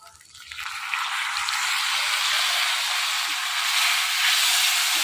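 Taro pieces frying loudly in hot oil after ginger and green chili paste go into the pan, a burst of sizzle that rises sharply and then holds as a steady, close, dense hiss with no talk.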